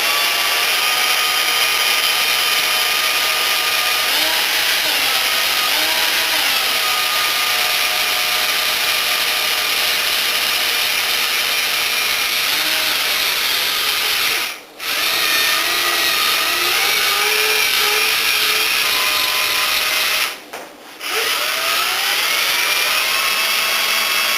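A power drill bores an angled screw hole into wood for a small garden planter greenhouse frame, with a loud, steady whine that stops briefly twice before resuming.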